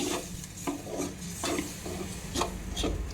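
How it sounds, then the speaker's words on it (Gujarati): A spoon scrapes and stirs semolina modak mixture with milk in a pan over low heat, making rhythmic strokes about every half second against a soft, steady sizzle. "એ બરાબર દૂધ એમાં મિક્સ કરી લેવાનું છે"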